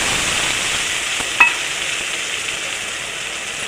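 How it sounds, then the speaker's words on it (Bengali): A spice paste of white and black mustard, poppy seed, green chilli and tomato fries in a pan with a little water for a Bengali bok fish curry, giving a steady, close sizzle with one brief clink of a stirring spoon. "মশলাটাকে এবার কষিয়ে নেব।"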